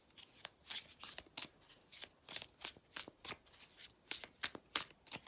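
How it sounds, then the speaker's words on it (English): Tarot cards riffled by hand in quick repeated bursts, about a dozen crisp flutters close to the ear, each a short papery ripple separated by brief pauses, quiet overall with no talking. "now I need to shuffle one more time"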